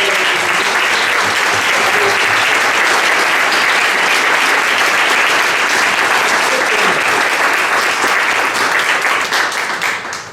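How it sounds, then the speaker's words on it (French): Loud, sustained applause from a conference audience at a gourmet venue, dense clapping from many hands holding steady for about ten seconds before tapering off at the very end. "Applaudissez le bénévolat."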